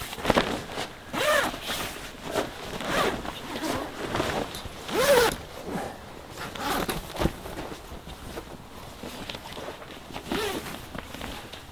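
Tent wall zippers on an Oztent RX4 being pulled open and closed in a quick series of rasping runs, moderately loud and close, with short pauses between strokes.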